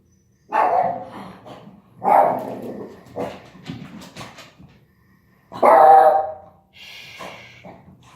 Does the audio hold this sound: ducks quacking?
no